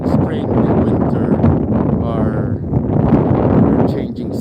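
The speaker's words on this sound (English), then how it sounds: "It's very windy, and this kind of weather is very expected in this part of the world." Strong gusting wind on a stormy winter morning in Lapland, Sweden, buffeting the microphone with loud continuous roaring and rumbling, while a person talks through it.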